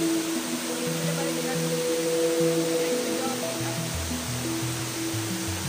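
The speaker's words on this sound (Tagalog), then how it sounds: "Lakas ng tubig." Strong rushing water at Kandungos Falls, a steady broadband roar filling the whole clip, with a low droning tone running underneath.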